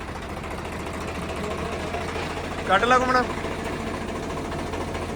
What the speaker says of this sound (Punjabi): ਟਰੈਕਟਰ ਨੂੰ ਆਵਾਜ਼ ਚੈੱਕ ਕਰੋ